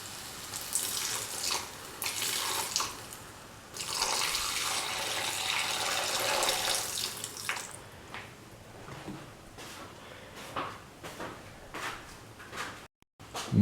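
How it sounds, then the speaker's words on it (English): Water from a tap pours into a pan of tofu masala stew, running in bursts with a few pauses and small clatters in between, moderately close and fairly quiet. "Pour in 3 cups of water."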